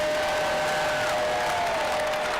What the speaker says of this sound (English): Let's give the coach a good round of applause.